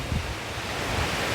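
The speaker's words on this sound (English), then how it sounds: "there's the wind picking up a little bit" Wind from the remnants of Hurricane Helene in rural Broughtontown, Kentucky, a continuous broad roaring rush buffeting the microphone outdoors, steady and fairly loud throughout with no voices.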